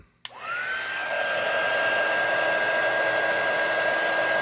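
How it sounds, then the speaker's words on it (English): A heat gun switches on with a click and settles into a steady loud blowing roar with a high whine while heating heat shrink tubing over a Powerpole connector, continuous and close with no speech. "this is why I use a heat gun versus fire"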